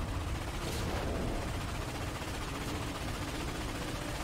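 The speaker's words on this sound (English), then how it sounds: "Hop on the defense cannon." A defense cannon shoots continuously in the Ratchet & Clank video game, a loud, dense wall of rapid blasts and rumbling noise that holds steady throughout.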